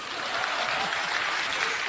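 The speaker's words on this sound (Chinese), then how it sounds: "懂得掌声啊" Audience applause at a talk, a dense, even wash of clapping that holds steady from start to finish with no voices over it.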